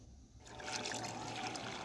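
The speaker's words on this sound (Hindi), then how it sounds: "पानी आपने थोड़ा ज़्यादा डालना है" Water is poured into a pot of lentils set to soak for making chicken haleem, a steady trickling splash that starts after a brief pause and keeps running, fairly quiet and close.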